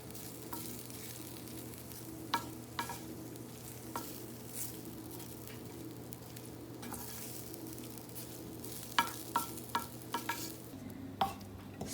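Rice stirred in a cooking dish alongside salmon, with soft, irregular scraping and clicks of a utensil over a low steady hum, fairly quiet and close, without any talk.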